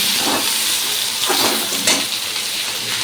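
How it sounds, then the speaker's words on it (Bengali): Potatoes fry in hot oil with whole cumin and dry chillies, a loud and steady close-up sizzle that hisses throughout, with a few stirring scrapes on top and no talking. "এখানে আলু গোটা জিরে শুকনো লঙ্কা দিয়ে ভাজ করেছি"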